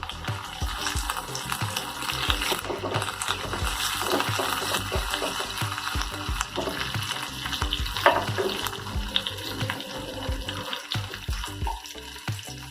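Curry leaves hitting hot oil in a pan while cooking a Telugu chamagadda pulusu, a loud, dense crackling sizzle that runs on without a break, close up with no speech.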